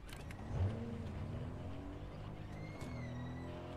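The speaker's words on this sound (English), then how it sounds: "Nice, we found a car." A car driven in the video game Fortnite, its engine humming and rising in pitch as it accelerates, faint and steady with a few small bumps and no talking.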